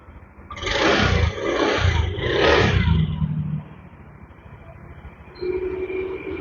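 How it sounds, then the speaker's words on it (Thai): A small Honda Spacy scooter engine from 2013, in good condition, rumbles and revs in a few surges, then settles into a steadier idle, heard up close. "เครื่องไม่หลวมนะครับ เสียงเครื่องก็ยังนิ่มอยู่นะครับ"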